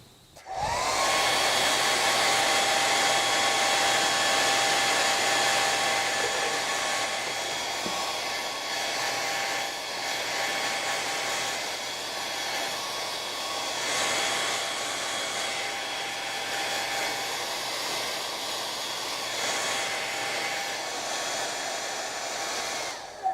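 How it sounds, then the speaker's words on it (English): A hair dryer blows continuously with a loud, steady whooshing roar that starts abruptly and runs unbroken, no talking. "Dry it a little bit with the hair dryer."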